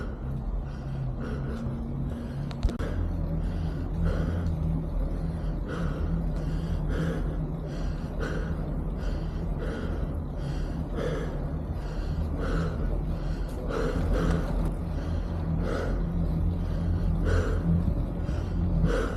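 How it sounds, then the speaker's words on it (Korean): A mountain biker pants heavily while riding uphill, the rhythmic, effortful breaths repeating steadily over about twenty seconds against a constant low rumble of wind and riding noise. "가쁜 숨을 몰아쉬며 헐떡헐떡 거리다 보니 안민고개 정상에 도착했습니다"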